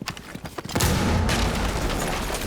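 A grenade explosion in Rainbow Six Siege, a heavy close boom that breaks out after a few sharp taps and leaves a long loud rumbling roar.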